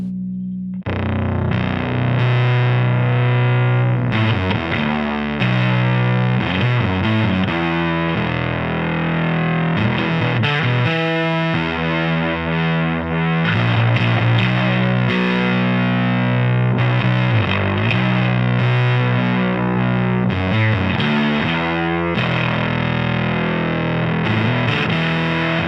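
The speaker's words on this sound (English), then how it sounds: "We're going to roll the volume knob up and hear what it's like at full gain." An electric guitar plays through a distortion pedal turned to full gain, with moderate, tasteful overdrive. Loud chords and riffs ring out continuously with no talking.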